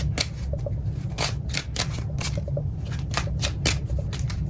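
Kipper and tarot cards are shuffled up close, a steady rapid riffling and flicking of card stock with crisp repeated slaps over a low background hum, with no talking.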